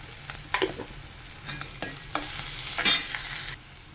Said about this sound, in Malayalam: മീഡിയം സവാള ചെറുതാക്കി അരിഞ്ഞത് ഇട്ട് കൊടുത്തിട്ടുണ്ട്